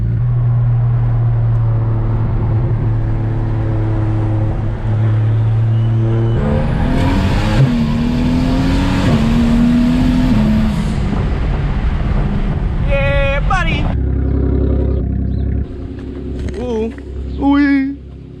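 A single-turbo BMW 335i E90 sedan revs its engine nearby, with a steady idle rumble climbing into a loud, sweeping rev that holds for several seconds before dropping off, as people talk over it.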